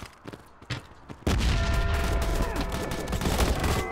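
Grenade explosion and gunfire in the video game Modern Ops: a sudden loud blast a little over a second in, followed by sustained dense rattling gunfire and booms, with faint earlier shots before it.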